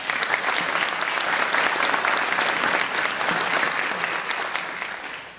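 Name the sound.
audience applause for honor guard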